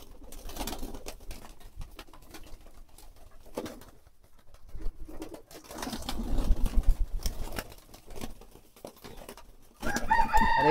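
Pigeons being given their feed, soft cooing and fluttering with shuffling and tapping nearby, rising to busier bursts of activity toward the end.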